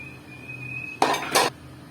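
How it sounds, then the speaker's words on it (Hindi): Rice is spooned back into a biryani pot and levelled, giving two quick metallic clanks of a utensil against the pot over a quiet kitchen background with a faint hum. "अब दोबारा चावल डालेंगे इसमें सारे, इनको बराबर करेंगे।"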